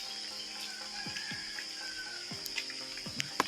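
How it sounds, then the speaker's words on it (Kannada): Steady rain falling in a village, a soft continuous patter with water dripping and splashing nearby, faint and even, with occasional small droplet knocks and no talk. "ಮಳೆ ಬರ್ತಾ ಇದೆ ನಮ್ಮೂರಲ್ಲಿ. ಯಾವ ರೀತಿ ಮಳೆ ಇದೆ ಅಂತ ನೋಡಿ."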